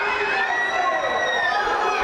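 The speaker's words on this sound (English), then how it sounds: "he's got this crowd all kinds of fired up" A pro wrestling crowd at an ECPW event roars and cheers after a slam, a dense, steady wall of voices with high shouts throughout, loud and close.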